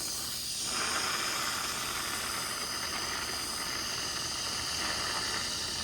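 A steady broadband hiss of spray from a blast furnace used while laying track, continuous and fairly loud from start to finish, with no speech over it.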